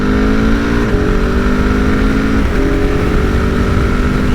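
A 2022 Husqvarna 701 supermotard motorcycle accelerating hard, its single-cylinder engine giving a loud, steady, close-up roar with a slight rise in pitch and no talking.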